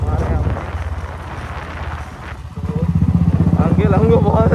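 A loud motorcycle with a loud aftermarket silencer idles and revs with a steady low throb, building in strength toward the end, while wind noise buffets the microphone and a person talks over it.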